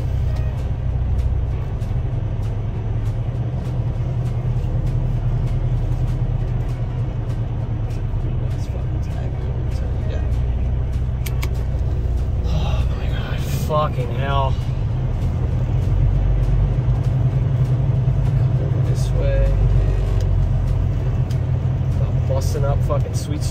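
A tractor trailer truck backing up through a narrow alley during a tight delivery stop, its engine a loud steady low rumble throughout, with someone talking over it in places.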